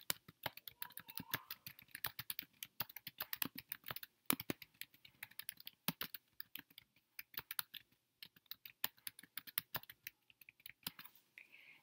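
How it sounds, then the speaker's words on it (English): A title is typed on a computer keyboard as a rapid, uneven stream of crisp, close key clicks with short pauses, alone without speech. "So I'm going to go ahead and type that in."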